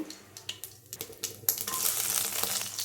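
Mustard seeds hit hot oil in a pan: a few light scattered clicks and pops, then a close, steady sizzle that swells and holds, with no one talking.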